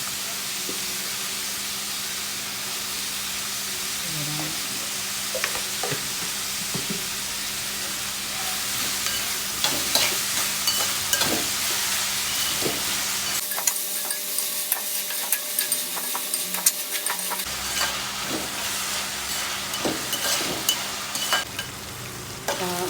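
Onions sautéing with salt in a pan, a steady close sizzle and hiss with intermittent stirring scrapes and clinks running throughout.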